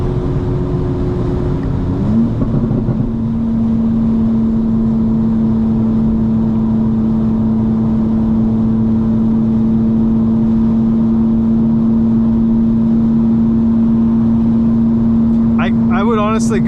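A 2025 BMW M4 Competition xDrive tuned to 900 hp, driven at night, gives a steady droning exhaust and engine tone at cruise, loud and continuous from inside the cabin, with brief talk near the end.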